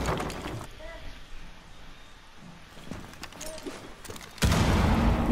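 Gunfire from the video game Rainbow Six Siege: a sharp burst of shots at the start, a quieter stretch with scattered small impacts, then a loud, dense volley that keeps going to the end.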